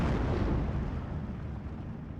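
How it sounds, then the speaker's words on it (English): Bombing run explosions in Steel Division 2 roll out as one sustained, heavy low rumble, loud and near, that slowly fades without a break and has no talk over it. "Good bombing run right here."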